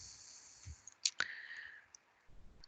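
Computer mouse clicks on a desktop: a couple of sharp, close clicks near the middle, quiet room tone around them, no talking.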